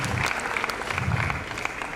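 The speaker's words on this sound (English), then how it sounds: "there we see the crowd getting behind the Indian" A squash crowd at the CCI International 2017 final applauds and cheers for the Indian player Saurav Ghosal, steady dense clapping from a packed hall throughout.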